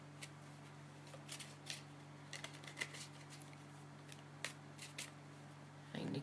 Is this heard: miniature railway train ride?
no